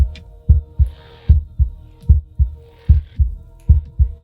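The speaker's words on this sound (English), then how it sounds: "the audio, like, heart beating in my ears" Heartbeat sound effect in the video game Slay The Princess: deep, thumping lub-dub pulses repeating steadily about every half second over a low hum, loud and close, with no talk.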